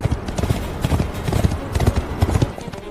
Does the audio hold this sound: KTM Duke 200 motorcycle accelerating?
no